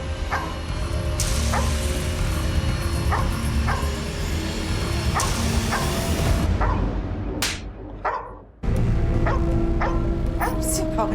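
Dogs barking in a dramatized Indian crime-show scene, with repeated short barks spaced through the clip under a constant background of music and voices, a brief drop out near the end before the barks resume.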